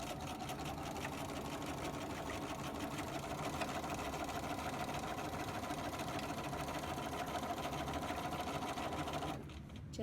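A sewing machine stitching a fully lined pocket runs in a steady, fast mechanical whir close by for nearly the whole stretch, stopping abruptly near the end.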